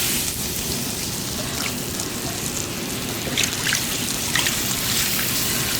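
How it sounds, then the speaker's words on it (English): Milk pouring into a cooked roux on a Blackstone griddle for chicken fried steak gravy, a steady close trickle and sizzle running the whole time, with a few brighter splashy bursts toward the end. "We're going to go in with our milk."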